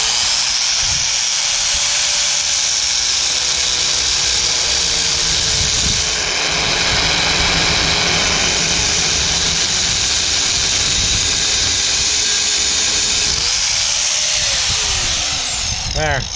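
A corded power tool whirs loudly and continuously while working on the axle of a 6x12 Carry On 3500 lb cargo trailer, with its pitch dipping near the end, heard up close.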